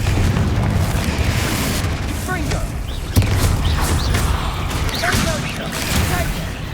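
Confringo fire spells cast repeatedly in Hogwarts Legacy, heard as booming bursts and crackling blasts over a dense, continuous game soundscape with a sharp peak partway through.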